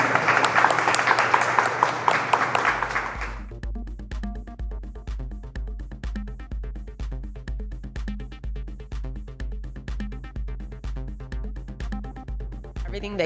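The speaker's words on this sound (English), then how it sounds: "I'd like a round of applause for everyone who's mentoring and participating." A conference audience at GUADEC 2024 breaks into applause for a few seconds of dense clapping, which then gives way to steady rhythmic music.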